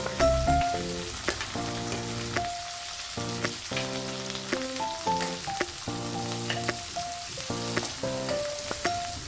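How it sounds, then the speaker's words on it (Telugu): Green chillies and curry leaves fry in a pan with a steady, close sizzle. The frying hiss runs beneath louder background music for the whole stretch. "ఇప్పుడు మనం వీటిని కొద్దిగా వేయించుకోవాలి"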